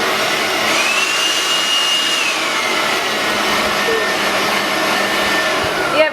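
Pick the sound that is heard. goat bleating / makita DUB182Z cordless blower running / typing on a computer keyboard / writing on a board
makita DUB182Z cordless blower running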